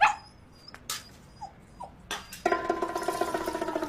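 A dog whimpers with a few faint, thin whines and short yips spaced apart, followed by a steadier burst of rougher background noise, with no talking over it.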